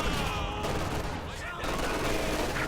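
Dense machine-gun fire rattles continuously through a World War II strategy game battle as LMG-armed grenadiers advance on conscripts and snipers, loud and sustained with other battle noise mixed in.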